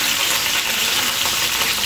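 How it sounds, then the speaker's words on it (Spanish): Hen pieces (gallina india) frying in a pan, a dense, even sizzle with steady crackling that holds loud and close throughout, with no talk over it. "ahí está, friendo la gallinita. Gallinita india"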